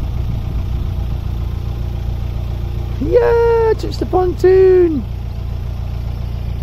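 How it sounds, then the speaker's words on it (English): A narrowboat engine idling steadily on a weedy canal, a constant low chug running throughout while voices speak briefly over it. "Look at this engine"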